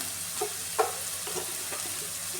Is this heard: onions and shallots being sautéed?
yes